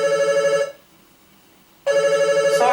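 A telephone rings in two loud bursts of electronic trilling separated by a brief pause, close by in a quiet room.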